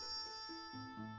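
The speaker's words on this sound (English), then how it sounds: "The bell rang beautifully, and the door opened." Bell in a Final Fantasy II game chiming in a short run of quick, faint electronic tones stepping downward, alone with no talk.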